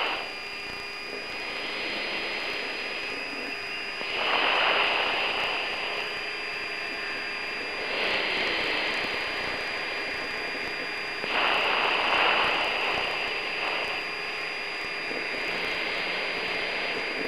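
A steady, heavy jet roar from the Thrust SSC jet-powered supersonic car rolling on its run across Black Rock Desert, heard from the cockpit, swelling in loud surges every few seconds over a constant whine.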